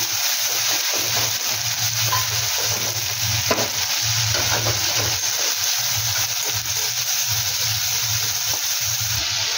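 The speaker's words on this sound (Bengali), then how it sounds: "আমি একটুখানি একটু জল দিয়ে আমি মশলাটা খুব ভালোভাবে কষে নিচ্ছি" Onions and spice paste for a small fish curry fry loudly in a pan with a little water, a dense continuous sizzle broken by occasional stirring scrapes.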